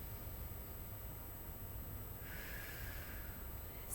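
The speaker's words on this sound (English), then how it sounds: "In between sets, I like to take a deep breath" A deep breath in between exercise sets during a shoulder mobility routine, a soft airy inhale through the nose arriving midway after quiet, close and faint.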